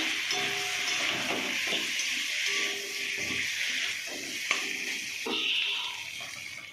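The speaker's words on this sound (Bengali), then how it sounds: "এবার ভিন্ডিগুলো দিয়ে দেবো। দিয়ে এর মধ্যে একটুখানি ভালো করে কষে নেবো। ভালো করে ভাজা ভাজা করে নেবো" Okra frying with spice masala in a pan gives a continuous hissing sizzle, near and moderately loud, with occasional soft stirring knocks and no talking.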